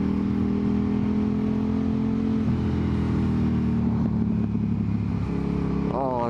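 A motorcycle engine drones steadily as the rider accelerates to about 80, with heavy wind buffeting and a rising tone toward the end.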